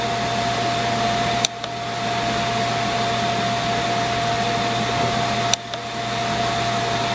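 A Beckett oil burner motor runs through its post purge, a steady broadband roar with a constant hum, broken twice by brief clicks.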